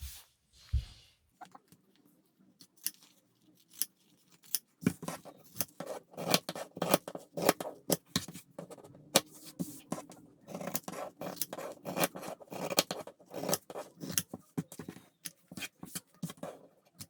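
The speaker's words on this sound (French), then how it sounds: "Les angles, surtout, ne pas couper trop près" Scissors snip around the corners of a fabric sandwich pouch being sewn, a long run of quick, close, crisp cuts in an uneven rhythm after a brief quiet start, with no voices.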